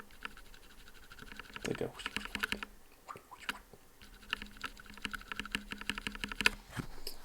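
Keystrokes on a keyboard whose switches have UHMWPE stems: a close, steady patter of light clicks with a soft swishy quality and some louder bursts, under a brief spoken phrase.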